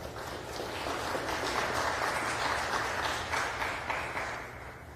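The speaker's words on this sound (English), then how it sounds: "let's give her a round of applause" Steady applause from a sizable crowd at a mayor's literacy campaign event fills the whole stretch, a dense wash of clapping at moderate volume with no voices over it.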